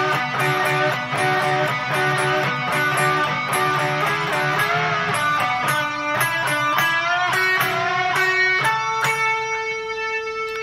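Electric guitar plays a solo phrase, sustained bent notes and quick picked runs ringing continuously and loud, with no talking.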